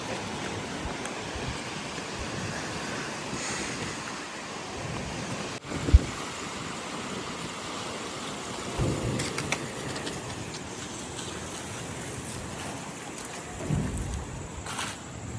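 A strong night storm over a Pakistani village: steady rushing wind and rain roar throughout, broken by one sharp, brief crack partway through and faint rumbles later.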